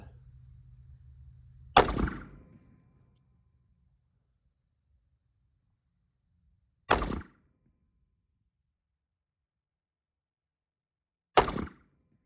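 Three sharp rifle shots fired from a bag rest, each a loud crack with a short decaying tail, spaced several seconds apart against near silence after a low steady hum at the start.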